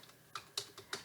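Keys tapped on a computer keyboard while entering data in Excel, four or five quick distinct clicks close by and fairly faint.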